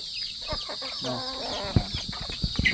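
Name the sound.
young chickens clucking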